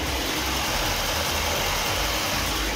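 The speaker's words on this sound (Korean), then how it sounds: "영상으로 엔진 소음 한번 담아보도록 하겠습니다" Petrol hybrid Hyundai Grandeur idling with the hood open, a steady, even engine hum and whir recorded up close and continuous throughout, with no talking.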